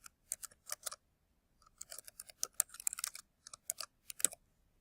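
Bursts of computer keyboard typing as a web page title is entered, with quick clustered key clicks in several runs separated by short pauses, close and fairly quiet with no talking.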